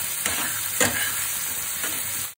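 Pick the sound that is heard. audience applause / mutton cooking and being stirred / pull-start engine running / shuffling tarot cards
mutton cooking and being stirred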